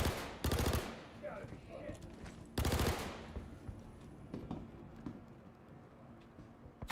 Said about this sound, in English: Oh, this is burst fire.